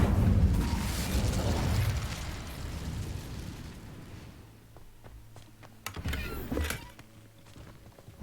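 Incendio fire spell cast in Hogwarts Legacy: a loud whooshing roar of flame that fades over a few seconds, followed later by brief sharp magical pops and crackles.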